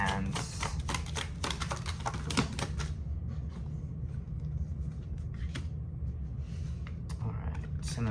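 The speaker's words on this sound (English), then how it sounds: "Just gonna pull some cards here" Tarot cards being shuffled and pulled give quick, crisp tapping and riffling clicks, busy for the first few seconds, then sparser flicks over a low background rumble.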